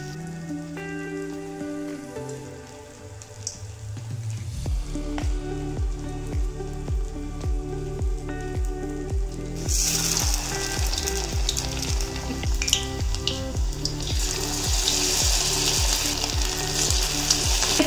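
Cauliflower pieces for gobhi 65 deep-fry in hot oil, a dense, steady sizzle that grows louder and brighter about halfway through, with a faint rhythmic background tone beneath it and no talking.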